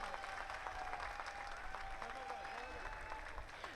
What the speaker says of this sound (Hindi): ये तालियां आप सबके लिए थी।